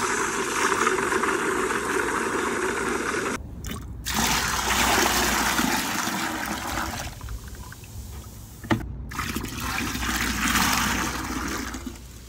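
Water poured from a bucket into a large plastic tote, a steady loud rushing pour that breaks off briefly twice before continuing.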